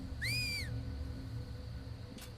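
A single rising-and-falling whistle call in Nioh 2, a brief, bright tonal sweep over a quiet droning background, followed by a faint short echo.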